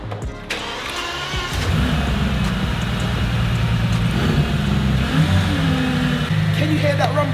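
An old VW Golf engine cranks and catches, then settles into a steady low rumbling idle close by, with a brief rise in revs near the end.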